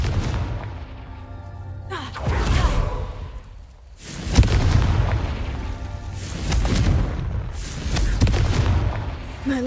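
Confringo fire spell blasts in Hogwarts Legacy, a game, set off in repeated booming explosions with whooshing bursts, loud and close over a low rumbling backdrop.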